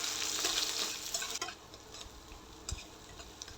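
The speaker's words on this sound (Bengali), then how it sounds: "ভালো করে এখন ভেজে নিব" Chopped onions and dried chillies hit hot oil for a bitter gourd and potato bhaji. A loud, bright sizzle fades after about a second into a softer crackle with a few stirring knocks.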